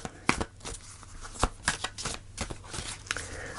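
Tarot cards being shuffled by hand before a final card is pulled, a string of soft, irregular riffling snaps and flicks, close and fairly quiet, with no speech.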